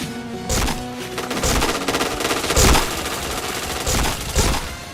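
Rapid bursts of game gunfire in an online shooter scoring chained headshots, several sharp volleys spaced about a second apart over a constant background drone, loud and close with no talking.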